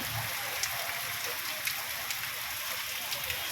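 Rain falling at Kotappakonda hill temple, a steady hiss of drops on surfaces with a few brighter splashes, moderately loud and even across the moment.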